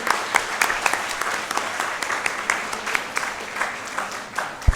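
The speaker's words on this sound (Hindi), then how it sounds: "जोरदार तालियां डॉक्टर सुनील सर के लिए।" Audience applause for Dr. Sunil Jogi at a birthday celebration event, a steady wash of many hands clapping at moderate distance with scattered sharper claps, fairly even throughout.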